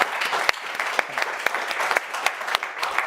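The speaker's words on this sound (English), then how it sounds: "A round of applause." Audience applause for the speakers at the end of a geopolitics and transatlantic affairs panel event, a dense steady patter of many hands clapping throughout, fairly close and sustained.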